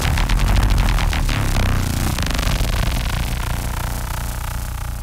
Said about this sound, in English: That's just the dry signal on its own.